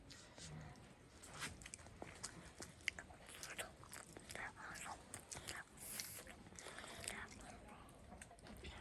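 Someone eats steamed sweet potato on a farm, with soft, close, intermittent chewing and biting sounds under quiet whispering and low background noise.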